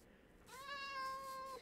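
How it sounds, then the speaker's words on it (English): A single drawn-out cat meow from the Minecraft video game, clear and fairly close, rising then holding steady for about a second over a quiet background with no speech. "That was a cat."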